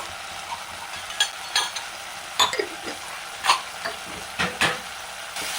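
Spices being sautéed in a pan for Chennai-style vatha kulambu, a soft, constant sizzle broken by scattered, sharp scrapes and knocks from stirring.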